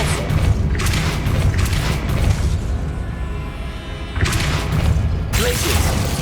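A Depulso force spell cast in Hogwarts Legacy gives loud, booming whooshes that swell twice with a brief lull between them and a third burst at the end, with no one talking.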